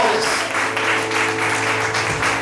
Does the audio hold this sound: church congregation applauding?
yes